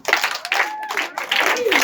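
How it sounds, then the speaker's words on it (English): Schoolgirls clapping in a classroom at a girls' grammar school, short bursts of group claps in quick pulses with voices mixed in, near and fairly loud. "Clap for her."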